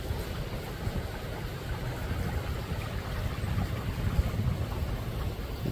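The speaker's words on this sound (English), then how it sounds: "let's try to give you guys an idea of how fast this water's flowing" Fast-flowing creek floodwater rushes beneath an elevated bridge, a steady, dense churning roar with slight surges, nearby and continuous, with no voices.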